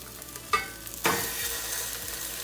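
Meat going into a pot of cooked onions and olive oil, heard as a close sizzle with two sharp clatters of stirring, the frying staying steady and faint with no speech.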